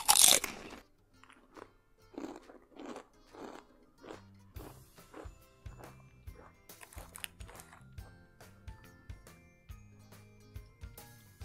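Thick ripple-cut mayonnaise flavoured potato chips crunched in a loud first bite, followed by a long series of close, rhythmic chewing crunches that gradually soften.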